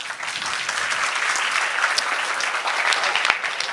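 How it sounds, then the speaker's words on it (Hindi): Participants at a happiness and wellness workshop session clap together, a lively, sustained round of applause that stays loud and fairly even, with a few sharper individual claps standing out. "बहुत बढ़िया, जोरदार तालियां।"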